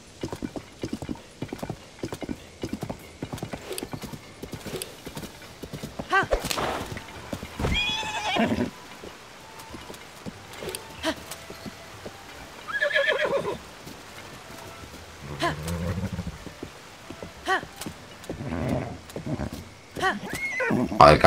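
Horse galloping and neighing in Zelda Tears of the Kingdom, with rapid rhythmic hoof clops throughout and several loud whinnies, while a person talks intermittently over the game sounds.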